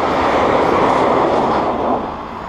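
A Brightline train rushes past close by, a loud continuous rumbling roar that stays steady and then eases slightly at the end, with no talking.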